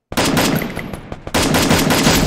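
Rapid automatic gunfire from the Garena Free Fire battle game, loud and close: a long sustained burst, a brief lull with scattered shots, then another continuous volley.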